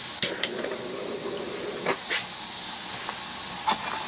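Steady hiss of steam escaping from a leaking gasket on an antique Jensen Weeden toy steam engine, continuous and close, with a few faint clicks and light knocks over it.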